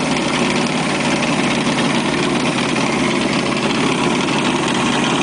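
An old tractor engine idles steadily after sitting unused for a long time, a constant close rumble with a mid-range drone that runs unbroken and alone throughout.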